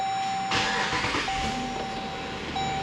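A 2014 Jeep Grand Cherokee with a 5.7 Hemi V8 restarts: an abrupt starter burst catches into a running engine that settles to a steady idle, with a thin constant whine behind it.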